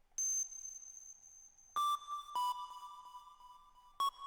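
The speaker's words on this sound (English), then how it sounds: "So this is a sound that I made myself, the phone dial thing." Self-made phone-dial sound effect in an electronic track: sharp synthetic pings and bright sustained tones struck in a few separate hits, clean and ringing, with no voice.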